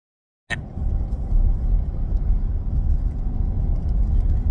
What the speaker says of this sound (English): I'm driving into work and I want to take you along with me.